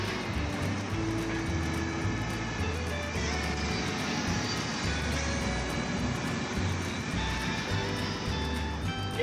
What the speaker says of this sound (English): Let's turn the drone around to take a selfie.